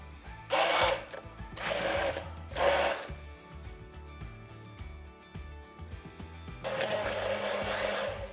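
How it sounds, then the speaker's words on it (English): A kitchen blender purees vegetables until smooth, heard as several loud, short whirring bursts early on and then a longer sustained run near the end, with quieter pauses between. "just keep blending a little bit longer and you'll get a really nice smooth puree"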